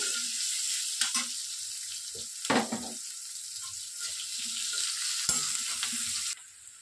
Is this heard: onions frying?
yes